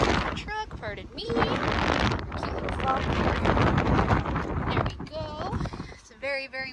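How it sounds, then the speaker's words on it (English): Gusty wind buffets the microphone with loud rumbling bursts beside a 2017 Ram 1500 truck, while a person talks intermittently through it. "Very windy, so try not to completely wind block you with the noise of this guy."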